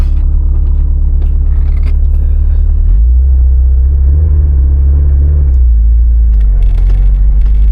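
Subaru STI hatchback fitted with a Garrett G30-770 turbocharger, driving: a loud, steady low engine rumble with a deeper surge midway as the car pulls away, continuous road noise throughout and no talking.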